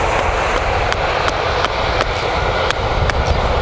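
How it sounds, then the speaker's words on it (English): A train passes close by beside spring canola fields, a loud continuous rumble with rhythmic clickety-clack of wheels over rail joints. "There's a train going past right in front of me here."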